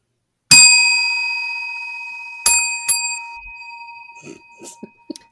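A bright bell rings sharply once and hangs in the air, then rings twice more, followed by a few small clinks and faint knocks.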